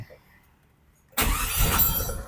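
A Suzuki Karimun car with a repaired carburetor is quiet, then its engine starts abruptly and runs loudly and close, the revs rising briefly, with talk nearby.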